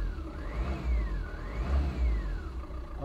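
A Tata Intra V30 BS6 pickup engine revs up twice from idle, each rise swelling into a smooth whirring drone before falling back, heard close with a steady low rumble beneath and no talking.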